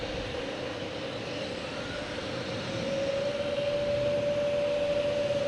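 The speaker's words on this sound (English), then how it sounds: "think we have our banana plane taking off finally" Airliner taking off at Logan Airport: a broad, steady engine roar that swells in the second half, with a rising whine-like tone emerging over the rumble.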